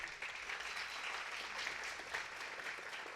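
A church congregation applauds together, an even, continuous wash of clapping heard at a distance and fairly faint, with no voices over it.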